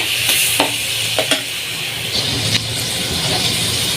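Garlic and onion sautéing in hot oil in a pan, a steady bright sizzle with a few scraping stirs of the spatula, close and continuous, with no talking.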